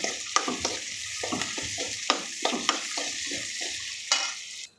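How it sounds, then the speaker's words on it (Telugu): Pieces of drumstick (moringa pod) frying in oil with onions and green chillies for a curry, a steady sizzle broken by sharp scraping stirs of a spatula against the pan, close and fairly loud with no talking. "తర్వాత మునక్కాయ ముక్కలు వేసి ఫ్రై చేద్దాం."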